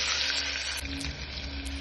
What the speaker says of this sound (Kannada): ನಾವು ಈ ಕರಿಬೇವು ಹಾಕೊಳ್ಳೋಣ, ಆಮೇಲೆ ಈರುಳ್ಳಿ ಹಾಕೊಳ್ಳೋಣ. ಈರುಳ್ಳಿ ಸ್ವಲ್ಪ ಚೆನ್ನಾಗಿ ಬೇಯಲಿ.